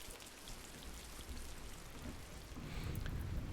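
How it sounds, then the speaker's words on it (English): Steady rain hissing in RimWorld, a soft, even wash of falling water that swells slightly toward the end, with no voices. "I know it started raining."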